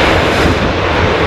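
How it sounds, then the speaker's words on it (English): EasyJet airliner coming in to land near an airport pub on a windy day, a steady, loud broadband roar that holds throughout with no pauses and no voices. "This is EasyJet coming in."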